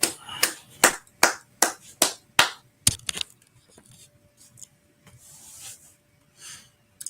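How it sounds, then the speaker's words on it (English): Sharp individual hand claps, about eight in a steady rhythm, ring out close and distinct, followed by faint scattered sounds and a low hum. "All right, clap it up."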